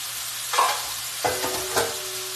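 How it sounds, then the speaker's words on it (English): Fresh sliced mushrooms and onions sauté in a hot pan, a soft steady sizzle broken by a few brief stirring scrapes, close and moderately quiet with no voices. "this is just fresh mushroom and fresh onion, that's all. So we're gonna saute that a little bit."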